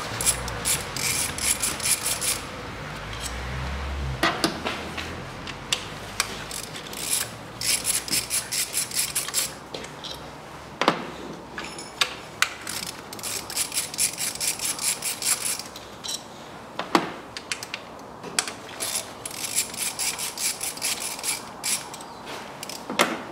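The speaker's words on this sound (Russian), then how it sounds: "откручиваем болты" Bolts being loosened on the engine of a 2000 Toyota Vitz SCP10 during a spark plug and drive belt job: repeated ratcheting clicks and creaking metal turns in bursts, close and fairly loud, with no talking.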